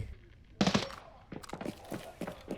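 Gunfire in the shooter game Arena Breakout: a loud burst of shots, then a string of quicker, lighter cracks that sound farther off.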